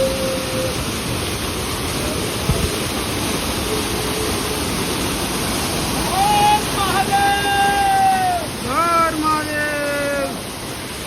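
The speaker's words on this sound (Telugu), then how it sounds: "ఈ వాటర్ ఫాల్స్ చూడండి మేము పోయే రూట్లా." A waterfall beside the route to Kedarnath gives off a steady, loud broadband rush for the whole stretch. Brief rising whistle-like tones sound over it near the end.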